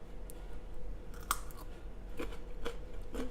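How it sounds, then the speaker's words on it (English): Crunchy fermented carrots from a homemade sauerkraut-style ferment being chewed, a few crisp bites spaced out over steady low background hum, close and fairly quiet. "Those have a nice crunch to them, and they're getting that very fermenty flavor"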